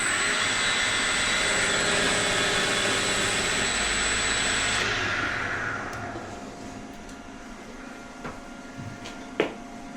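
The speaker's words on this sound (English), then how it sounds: "Just going to put a little bit of a chamfer on it." A power tool cutting a small chamfer into a carbon bicycle rim part whines loudly and steadily up close for about five seconds, then winds down into quieter workshop noise with a couple of sharp clicks.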